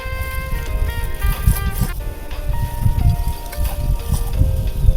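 Outdoor wind gusts rumble against a microphone at a black turmeric planting under coconut trees, loud irregular low buffeting throughout, with faint steady tones in the background.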